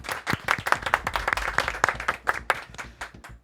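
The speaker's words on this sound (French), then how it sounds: "on peut l'applaudir" An audience claps for contest winner Justine, a brisk burst of scattered hand claps from a small group, fairly close and irregular, fading slightly toward the end.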